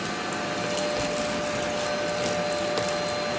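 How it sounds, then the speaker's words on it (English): An Easine iLife G50 cordless vacuum running steadily along a baseboard as it tries to suck up scattered rice, with a constant whining motor hum and faint ticks of grains. "See if I can suck in this rice"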